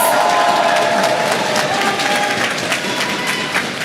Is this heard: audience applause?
yes